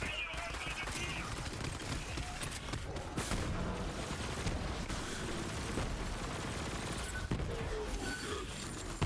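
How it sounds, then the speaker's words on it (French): Flame machine gun fire in the video game Borderlands 3, a dense, unbroken stream of rapid shots and explosive bursts lasting throughout, with scattered louder blasts layered over a heavy rumbling backdrop. "Je tire une balle de mitrailleuse à flamme, je vois une grenade qui part en même temps."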